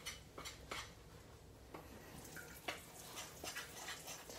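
A spoon stirs thick no-bake protein brownie batter in a bowl, giving faint, irregular scraping and clinking strokes against a steady background hiss, with no talking.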